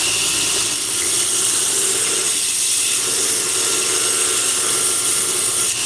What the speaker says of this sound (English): Turn the grinder up on that.